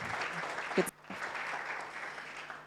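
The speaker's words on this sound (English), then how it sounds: "So let's give a round of applause to the World Bank team and to Aki." Applause from the audience at a Kenya youth engagement forum, a steady crowd clapping that fills the short clip, with a brief drop in the middle before the clapping carries on.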